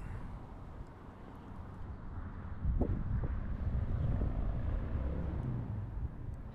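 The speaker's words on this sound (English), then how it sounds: "Wind's kind of picking up." Outdoors at a railroad museum along Route 66, wind rushes and buffets the microphone as a low, steady roar that swells and grows stronger partway through.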